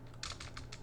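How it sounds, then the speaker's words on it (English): Several quick, soft keystrokes tapped on a computer keyboard while entering text in a design app, faint and close with no voice. "And I will type here inside"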